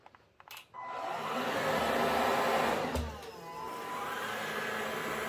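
A Bosch Serie 2 cordless vacuum cleaner starts up after a few handling knocks and runs with a steady, loud whir close by, dipping briefly midway before settling back to an even hum.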